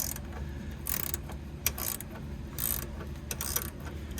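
A ratchet cranks down a nut on a control arm bushing of a GMC Savana 3500 van, with soft, close clicking strokes repeating in short bursts over a low background hum.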